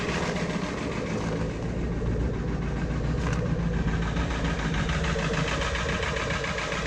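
A cold 7.3 Powerstroke diesel that has sat for a couple of days idles roughly in cold weather, a steady low, uneven rumble heard close up with no talking.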